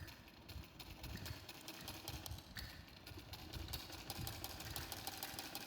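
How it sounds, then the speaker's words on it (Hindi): A sewing machine stitches a double seam on a side-plate baby frock, a faint, steady rapid mechanical chatter running continuously and close. "अब हम इसकी डबल वाली सिलाई लगा रहे हैं।"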